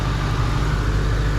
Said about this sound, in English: It's idling great, does not drop, low speed fan comes on, doesn't go straight to high anymore.